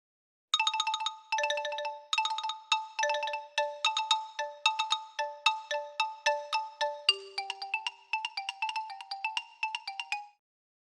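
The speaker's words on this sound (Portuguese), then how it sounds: "Aí eu também trouxe aqui também um exemplo de um que é o xilofone" Xylophone played alone, a bright run of clear struck bars in a steady, ringing rhythm of about two dozen notes, each tone decaying quickly before the next.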